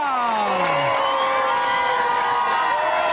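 A game-show studio audience cheers and whoops loudly after a Mortal Kombat II challenge on GamesMaster, a dense continuous crowd roar with shouting voices throughout.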